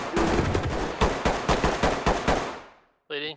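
Rapid burst of gunfire during a police SWAT drug raid, about a dozen loud sharp shots in quick succession, followed by a short voice.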